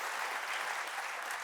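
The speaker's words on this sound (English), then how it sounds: "Round of applause, please." Audience applause fills a television festival conversation event, a dense steady wash of many hands clapping at moderate volume throughout, with no voices rising above it.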